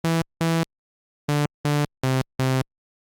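TAL Bassline synth emulating a Roland SH-101 on its starting patch, giving six short, loud, buzzy tones: two notes, a pause, then four evenly spaced notes, played alone.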